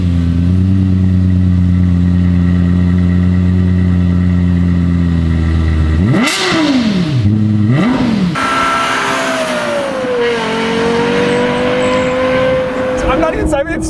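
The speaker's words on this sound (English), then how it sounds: "That is the best sounding car I've ever heard in my life." 2012 Lexus LFA supercar with its Yamaha-developed engine: a loud idle, then sharp rapid revs climbing and dropping, settling into a high sustained howl, heard close with people talking over it.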